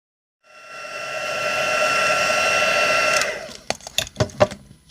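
A heat tool warming Simon Hurley stamping foam gives a steady, loud blowing whoosh for about three seconds. The noise then cuts off, followed by a few sharp handling clicks and taps.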